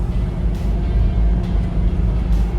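Toyota Land Cruiser truck with 400,000 miles cruising at 70 mph, a steady low road and engine rumble with wind and tire noise from inside the cabin, continuous and fairly loud.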